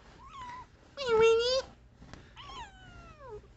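A cat meows several times close by, drawn-out and complaining, with short pauses between cries and faint background sounds.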